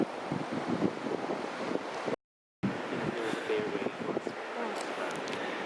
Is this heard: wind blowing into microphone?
yes